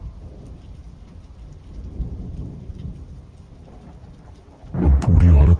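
Steady rain falling, fairly soft and continuous, in a horror story, with a loud, close thunder crash breaking in near the end.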